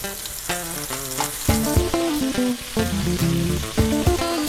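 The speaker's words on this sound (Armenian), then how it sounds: "Տաք ձիթայուղի մեջ սկսում եմ տապակել։" Flour-coated meatballs frying in hot olive oil give a loud, continuous sizzle close up, with no talking.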